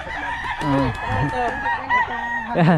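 Chickens cluck and a rooster crows nearby in a busy outdoor flock, with calls tumbling over one another and a voice briefly among them.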